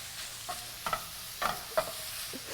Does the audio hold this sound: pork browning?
yes